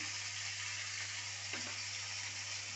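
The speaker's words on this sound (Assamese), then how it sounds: "এতিয়া হালধিটো দি দিছোঁ লৰাই দিওঁ" Paneer and cauliflower fry with salt in a pan, a continuous soft sizzle with a faint stir of the spatula over a low steady hum.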